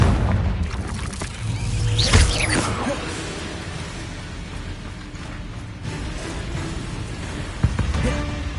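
A Confringo blasting spell exploding in Hogwarts Legacy: a heavy, booming blast with a rumbling tail, followed by a lingering low rumble and a smaller thud near the end.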